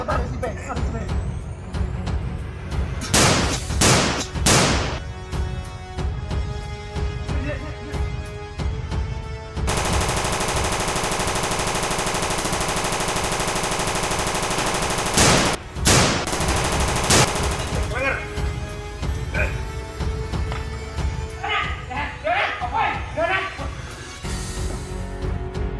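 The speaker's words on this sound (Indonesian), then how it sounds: "Ayo diparani tembak ngancan Satiman" Gunfire in a live-action Indonesian recreation of the shooter game Free Fire: repeated bursts and single shots over about 26 seconds, with a long sustained stretch in the middle and voices mixed in.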